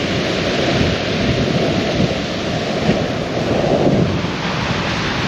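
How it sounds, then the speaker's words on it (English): Rough sea waves rush continuously onto the shore at a campsite, a loud, steady roar of surf mixed with gusty wind buffeting the microphone and no talking. "every now and then the tide comes rushing in. Yeah, very rough."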